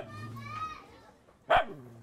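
A single short dog bark sounds out briefly after a stretch of faint background voices and children's chatter, in a crowded neighbourhood of Baseco in Manila.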